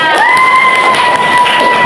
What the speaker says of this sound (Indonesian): tepuk tangan dulu buat Kira